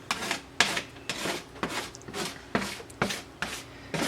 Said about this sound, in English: Get a card, something sturdy, and just scrape it up